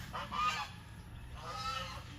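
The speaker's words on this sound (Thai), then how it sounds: "ปล่อยห่านเนาะ ไล่ห่านพี่น้องเลย" Geese in a rural garden honk in two fairly close bursts, harsh nasal calls separated by a short pause over faint outdoor background.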